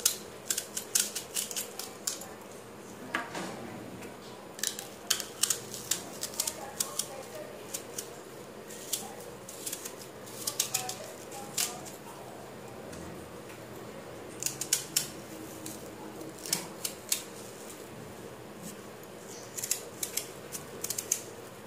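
A knife slices through an onion on a cutting board for onion rings, giving sharp, crisp crunches in irregular bursts, some quick runs of cuts and some pauses, close and fairly quiet.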